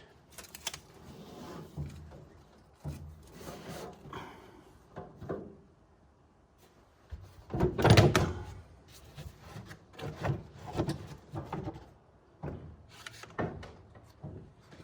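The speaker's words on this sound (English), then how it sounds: "I'll take out the floorboard" A wooden floorboard is worked loose and lifted out of a 1931 Ford Model A pickup, producing intermittent close wooden knocks, scrapes and rubbing thumps with quiet gaps between them.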